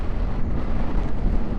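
Strong wind gusts roar across a microphone while riding a motorcycle in Patagonia. The sound is a loud, continuous low buffeting rumble that lasts a short moment with no talking.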